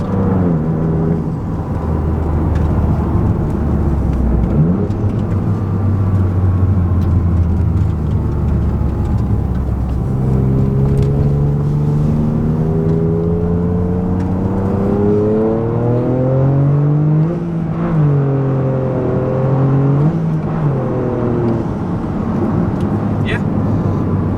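A Toyota GR Corolla engine hums and revs steadily from inside the cabin, with a throaty MBRP aftermarket exhaust tone rising and falling as it accelerates.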